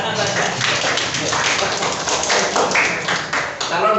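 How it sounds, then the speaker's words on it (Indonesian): Classmates in a school classroom clap for a student, a brisk run of hand claps with voices talking over it. "Tepuk tangan untuk anak saja"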